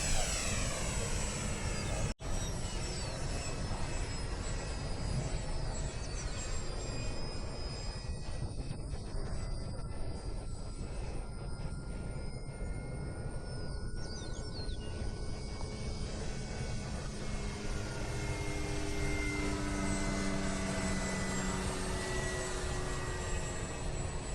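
A small airplane's engine drones steadily throughout a sunrise Independence Day flight at Fritz Field, heard from inside as a loud, unbroken roar with faint shifting tones and no talk.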